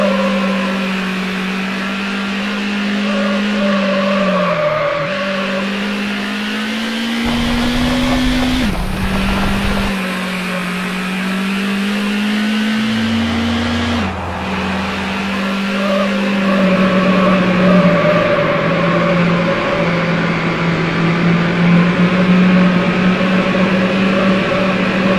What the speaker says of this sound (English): Vehicle is a white BMW M5.